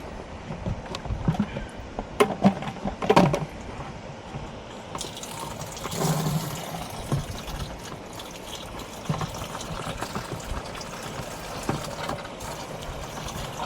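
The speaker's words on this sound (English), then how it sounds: "filling up with regular water." Tap water runs steadily into a container during a building wash, a continuous watery rush with some clattering handling noises early on and no talk.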